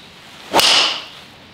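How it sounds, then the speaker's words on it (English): A golf driver striking a ball on a range: a single sharp, bright crack of the clubface on impact, loud and close, with a short ringing tail and no talk. "so let's hit another one."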